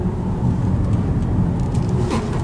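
A car drives past on a road the day after Hurricane Sandy, a steady low engine and tyre rumble heard from inside a moving vehicle, with no talking.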